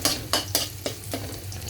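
Onions being stirred in a hot pan for squid adobo: a few scraping strokes of a utensil against the pan over a low, steady sizzle.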